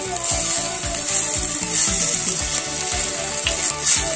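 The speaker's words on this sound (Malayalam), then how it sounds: "ഇനി ഇതിൻ്റെ എല്ലാം പച്ചമുളക് മാറുന്നത് വരെ നമുക്കൊന്ന് ഇളക്കിക്കൊടുക്കും" Green chillies, ginger and garlic fry in a hot clay pot while being stirred, a close, steady sizzle broken by rhythmic scraping strokes of about three per second.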